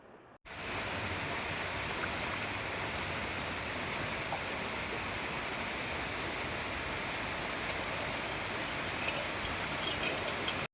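Water poured onto sugar in a pan to make syrup for malpua, a steady broadband splashing hiss running unbroken for about ten seconds, fairly loud and close, with no voices.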